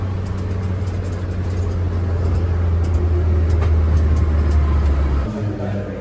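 Kei car engine held at about 4,000 RPM while driving, a loud, steady low hum with road noise, droning continuously before dropping near the end.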